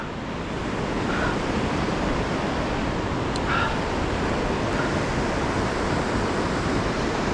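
Cucumber Rapids at Ohiopyle rush through a boulder field at a river level of seven to eight feet, making a loud, continuous roar of churning whitewater with no voices.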